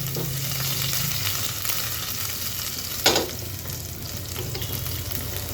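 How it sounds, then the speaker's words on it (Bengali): Chopped onions frying in oil for a Barisal-style country chicken curry, a steady sizzle with a few stirring scrapes and one sharper clatter midway, no talk. "মধ্যে দিয়ে দিচ্ছি কিছু পেঁয়াজ কুচি জাস্ট একটু হালকা বেরেস্তা করে নিব এটা"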